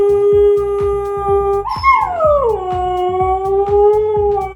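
A Siberian Husky howls loudly and close, one long sustained wavering howl that slides upward and then slowly falls, backed by a steady rhythmic knocking.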